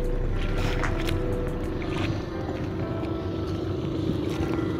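Engine of a fishing boat heading home from sea at dawn, a steady low droning hum with water and wind noise, continuous and fairly close throughout.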